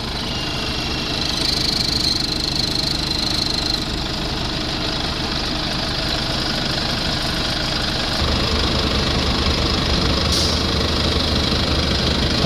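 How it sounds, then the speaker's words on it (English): A Mercedes Sprinter diesel engine idles steadily up close with a clattering, knocking rhythm and a faint high whine, its tone shifting slightly partway through; no talk. "I'll run the engine and put the other half in like this."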